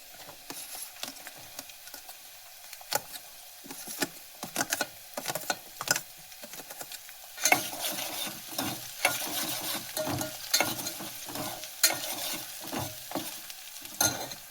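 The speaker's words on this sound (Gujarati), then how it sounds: "હવે નાખી દઈએ આપણે લીલી ડુંગળી," Chopped onions and green onions fry and sizzle in a pan for a Gujarati eggplant oro, with steady crackling and frequent spoon-stirring scrapes growing busier toward the end, no talking.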